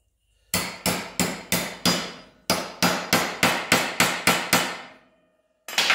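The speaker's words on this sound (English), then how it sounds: "I'm going to hammer that down into there like so." Trim on a 1966 Mustang is hammered down using an old grinder key as the hammer: a run of sharp, close metallic strikes in steady rhythm, a brief pause, then more even blows, silent near the end before one last hit.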